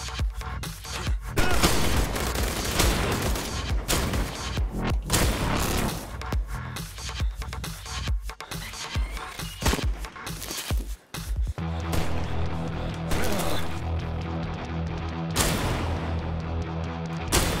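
Shotgun blasts in the video game I Am Your Beast fire in a dense run of loud, sharp bursts, layered over steady game music that thickens toward the end.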